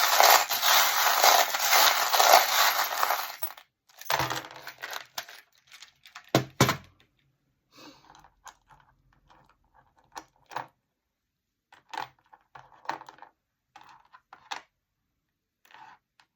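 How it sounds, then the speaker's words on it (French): Metal charms being shuffled for a divination reading, first a steady loud jangling rattle for about four seconds, then scattered sparse clinks and taps, close and crisp. "On va regarder les breloques, donc ça va être un petit peu bruyant."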